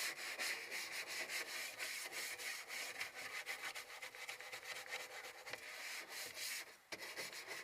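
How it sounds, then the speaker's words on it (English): Steady, quiet back-and-forth scrubbing with a rhythmic rubbing rasp as Goo Gone adhesive remover is worked off a Porsche 944 door panel during restoration, with no voices. "scrub the Goo Gone off, or I don't know how I'm gonna get it off, but scrubbing seems to do the trick just fine"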